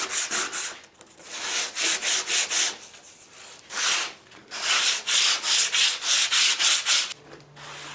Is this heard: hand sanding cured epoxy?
yes